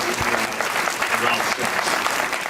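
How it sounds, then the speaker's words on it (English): An audience at an interfaith gathering claps steadily, dense and close, with a voice faintly audible beneath the applause. "Let's have a round of applause for Rabbi Pezzner leading you"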